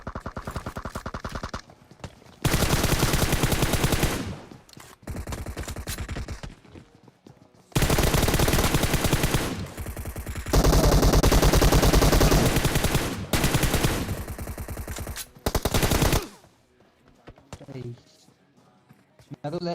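Repeated bursts of automatic gunfire spray in PUBG Mobile battle royale play, loud and close, in long sustained volleys separated by short pauses, with a quieter stretch at the end.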